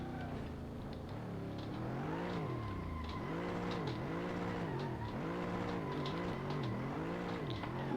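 A racing car engine in the Assetto Corsa driving game revs up and down in repeated rising and falling sweeps as gears shift, loud and continuous with faint tire noise.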